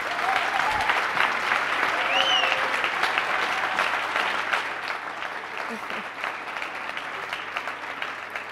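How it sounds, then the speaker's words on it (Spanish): Audience applause at a Spanish cinema-and-comics talk, honoring the Comiteca's 20th anniversary on comic day: loud, dense clapping fills the room, holding steady and then easing off slightly toward the end. "así que un aplauso para la Comiteca."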